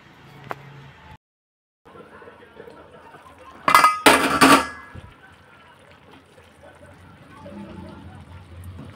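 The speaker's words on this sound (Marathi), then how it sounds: "आता झाकण लावून याला 5 ते 10 मिनटं छान हे कडधान्य शिजेपर्यंत मी शिजवून घेते" A lid clatters onto a metal pot of simmering mixed legume curry, a brief burst of clinks and rattles in the middle, with soft kitchen ambience before and after.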